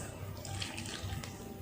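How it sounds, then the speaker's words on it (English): Warm water pours into rice flour in a bowl for dough, a steady close splashing rush with faint scraping and mixing noises underneath. "As we are adding warm water, I am using this spatula to mix."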